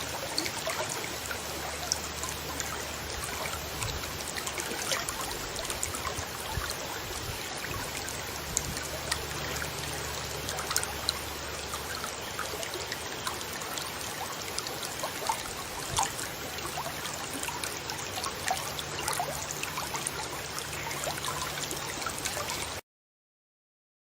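Water trickling steadily in a river stream, a continuous close babble of flowing water with a faint low rumble underneath and no voices.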